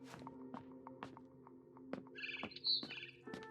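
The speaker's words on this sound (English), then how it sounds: "Then I heard chirping outside my window." A barn swallow chirps outside a window in the video game What Remains of Edith Finch, a short burst of faint, high twittering set against quiet rhythmic taps and soft thunks, with no one speaking.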